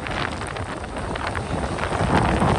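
Rain and gusting wind on a beach during Storm Debby in Florida, a steady loud wash of drops and buffeting wind noise that swells slightly toward the end, with no voices.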